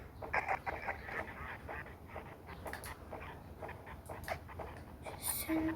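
A puppy pants and whimpers close by, with small yips and whines over a busy background, while a person moves around nearby.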